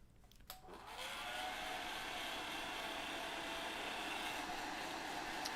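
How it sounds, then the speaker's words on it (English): A hair dryer clicks on after a brief quiet start, then blows a steady, loud, even whoosh of air over freshly painted miniature shoulder pads until the end. "So I'm just drying the shoulder pads."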